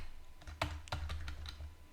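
A computer keyboard is typed on at a console in a short, quiet burst of distinct keystrokes, irregular clicks roughly a few per second, close-miked over faint room hum with no voices.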